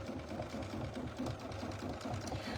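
An embroidery machine stitching a quilt block runs with a steady, fast mechanical rhythm, moderately close and continuous with no pauses.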